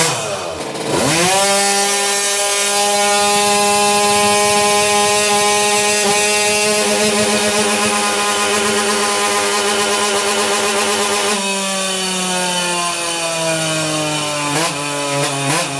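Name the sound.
Hercules Prima GT moped engine revving on a dynamometer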